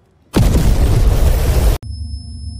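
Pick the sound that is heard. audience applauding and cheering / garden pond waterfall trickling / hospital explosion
hospital explosion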